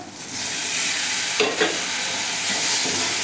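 Tomatoes hitting hot oil with turmeric and basic spices for a dry bitter gourd and potato curry, a loud, dense sizzle throughout with a couple of stirring scrapes partway, close and without speech.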